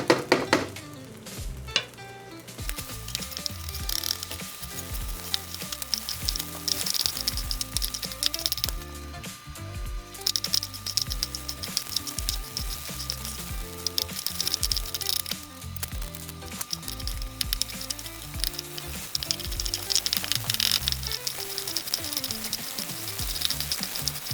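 Fried rice is stirred in a pan for a long stretch, giving a steady close sizzle with constant scraping and clattering of the spatula against the bottom.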